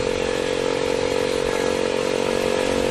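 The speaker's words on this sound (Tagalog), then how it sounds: "Pakaingay ng pipe ko." Rusi Classic 250 motorcycle idling through a loud aftermarket exhaust pipe, a steady, close, throaty drone with a constant rattle, alone with no talk.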